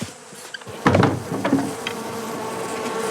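Honeybees buzzing around an open beehive, a dense, steady drone of many wings with close individual bees whining past in brief louder swells.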